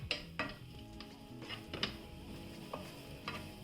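Soft frying sizzle of leek in oil in a pan, with occasional clinks and scrapes of a utensil stirring, quiet and close.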